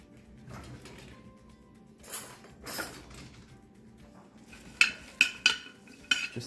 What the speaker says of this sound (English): we'll give that a little bit of a rough stir, just so that all the ingredients get to know each other